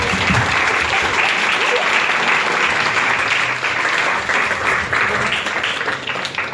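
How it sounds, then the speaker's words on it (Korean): An audience at a kimchi-making talk breaks into sustained applause, dense, loud and even from start to finish with no break. "이럴 때 박수 한번 쳐줘야죠."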